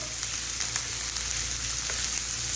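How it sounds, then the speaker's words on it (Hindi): Onions frying in oil in a pan for okra masala, a loud, steady close sizzle with faint stirring underneath and no talking. "बस अच्छे तरीके से प्याज को फ्राई करेंगे हम लोग"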